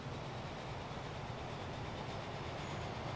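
Trains running on a busy freight line in the video game Transport Fever, with a steady rolling rumble and clickety-clack of wheels at a moderate, even level.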